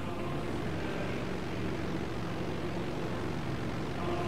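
Propeller aircraft in a 1945-era World War II flight game over Poland, heard as a steady, moderately loud broadband engine drone with no breaks.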